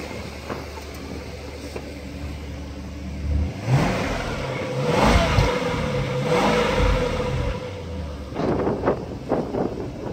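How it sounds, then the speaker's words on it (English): A car engine idles and then is given some gas, rising into a couple of swelling revs that fall back to a rumbling idle. The sound is close and fairly loud, with no talking. "Give a little gas."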